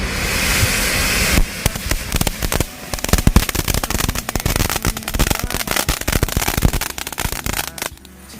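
Sivakasi firecrackers (potas) burst for the Vishu festival, giving a loud, close, continuous run of rapid cracks and pops that keeps going for several seconds with no talking.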